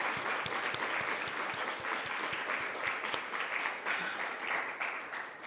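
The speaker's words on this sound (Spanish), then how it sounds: "¿Le puedes dar un aplauso al Señor?" A congregation applauds the Lord during a Spanish-language church service, dense sustained clapping with individual sharp claps standing out, steady throughout with no talking over it.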